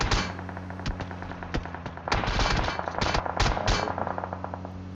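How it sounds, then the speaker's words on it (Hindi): Gunfire in PUBG Mobile, several weapons including an M416 spraying at once, with irregular overlapping bursts and single shots that grow denser and louder midway over a steady low game hum. "कम से कम तीन चार बंदे दबा के गोलियां चला रहे हैं"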